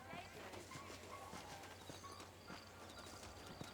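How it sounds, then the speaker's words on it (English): Horse hooves clip-clop at a steady walking rhythm in the Red Dead Redemption video game, soft and fairly quiet against a low background ambience. "Follow Jake to the horses."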